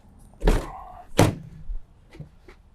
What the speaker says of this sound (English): I'll get these back doors open.